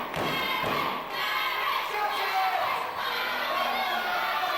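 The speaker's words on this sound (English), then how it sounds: "Stomp to the back of the head." At a 2006 FWA–NOAH professional wrestling show, a wrestler's stomp lands in the ring with dull thuds over a steady roar of crowd noise.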